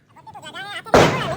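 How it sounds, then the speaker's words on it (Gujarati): A single Diwali firecracker bursts with a sudden loud bang that decays over a fraction of a second, following a short stretch of voices talking. "ભલે આપણે બીક લાગે પણ એમ તો આપણે ફટાકડા ફોડ્યો"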